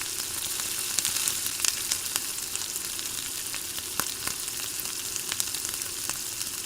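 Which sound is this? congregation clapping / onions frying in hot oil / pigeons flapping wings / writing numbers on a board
onions frying in hot oil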